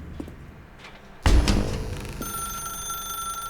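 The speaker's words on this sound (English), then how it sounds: "Now pick up the phone." A telephone rings in the video game The Stanley Parable, a sudden loud electronic ring cutting in after a quiet ambient hum, then continuing as a sustained bright tone.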